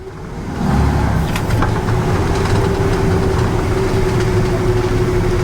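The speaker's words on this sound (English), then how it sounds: "It is a gas engine, not diesel." A 1994 Ford F150 with a gas engine drives along, its steady engine drone and cab rumble rising as it pulls away and holding constant, no talking.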